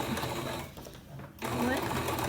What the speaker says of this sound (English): My machine doesn't like to go over big bulky spots, so I have to help it a little bit and push it,